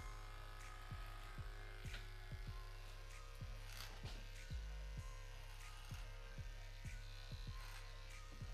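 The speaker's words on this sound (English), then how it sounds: "the heavy duty Andes BGR Plus has no problem going through Mo's coarse hair" An Andis BGR Plus heavy-duty hair clipper runs with a steady, loud electric buzz while cutting through coarse hair, with light rhythmic clicks and brushing as it passes repeatedly through the hair.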